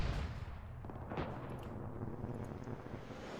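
Heavy artillery gun bombarding an airfield in Arma 3, a deep booming blast at the start followed by rolling rumble and muffled distant thuds, fairly faint and without talk.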